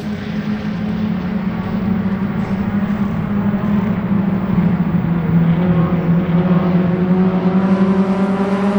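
Race cars lapping during a 30-minute feature race at Sebring, a steady, loud blend of engine drone with pitch sliding slightly as cars pass, continuous throughout with no talk.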